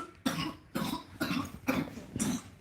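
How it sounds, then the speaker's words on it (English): Five harsh coughs at a steady pace, each a sharp burst close to the microphone with short pauses between, no talking. "Even though she's actually coughing right now"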